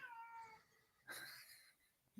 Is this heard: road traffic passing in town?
no